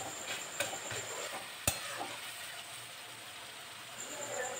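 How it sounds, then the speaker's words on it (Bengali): Potatoes stirred into softened fried tomatoes and oil, a soft continuous sizzle with a couple of sharp clinks of a utensil against the pan, quiet and without speech. "আর একটু নেড়ে চেড়ে নেব"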